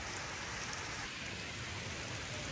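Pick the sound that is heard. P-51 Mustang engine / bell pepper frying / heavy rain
heavy rain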